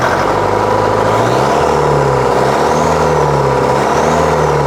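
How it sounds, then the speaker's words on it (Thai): An Isuzu 4JJ1 diesel truck engine revs up loudly and holds at high speed, a droning roar with rising and falling pitch, close by and continuous. "อีกทีนึงเร่งหน่อยครับ"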